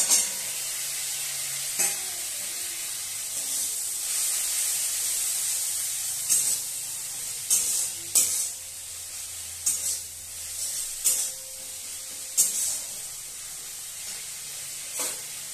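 Coriander-cumin paste hits hot spices and tomato already cooked down in a pan, giving a steady broad sizzle broken by scattered sharp spatula scrapes and stirring clatter, fairly close and without talk.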